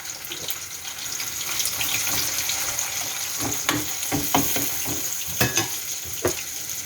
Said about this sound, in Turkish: Patlıcanlar da kızarıyor.